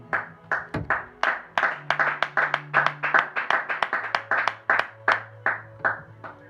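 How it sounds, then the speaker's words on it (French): Church congregation clapping in a quick, steady rhythm, sharp close hand claps repeating many times, with a sustained sung or hummed tone underneath. "Acclamons pour la parole de Dieu"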